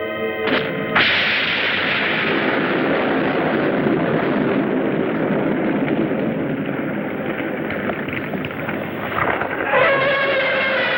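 Weapon fire launching a freezing bomb at the giant turtle monster Gamera in a 1960s kaiju film: a sustained, loud roaring blast rises sharply near the start and rumbles on through the scene, with no speech over it.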